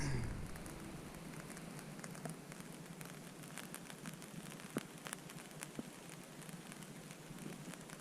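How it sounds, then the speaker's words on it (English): Light rain patters steadily on a surface nearby outdoors with distant thunder, soft scattered drops with a few sharper ticks, quiet and continuous. "Well, we got a light rain."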